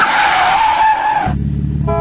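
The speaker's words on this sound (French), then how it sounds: "je m'autorise un peu de piste pour faire un peu glisser à basse vitesse" An everyday family car with a child seat in the back skids at low speed on a wet track, its tires squealing in a loud, sustained whine before the engine note takes over near the end.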